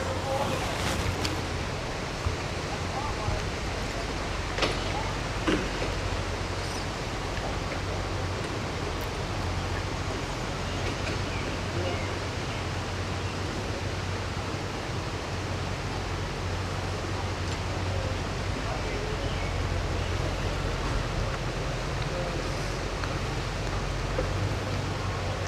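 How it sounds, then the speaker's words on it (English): Strong wind buffeting an outdoor microphone beside water during a fishing trip, a steady loud rumbling roar that fills the whole stretch without letup. "It was actually very windy today."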